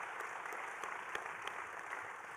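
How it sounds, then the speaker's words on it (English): Applause from the audience closing a climate-change session at the GEO XVI plenary, quiet and distant-sounding, a steady patter of many hands over roughly two seconds. "So if we can just applaud ourselves for such a useful discussion"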